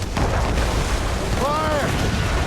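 Ship cannons fire in Assassin's Creed Rogue, a dense rumbling boom of naval gunfire filling the short stretch, with a shouted voice breaking through midway.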